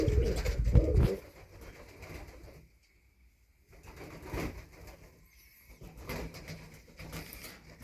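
Soft, low coos from pied pigeons drift in and out over a steady background hum, with a brief rustling burst at the start and no talking.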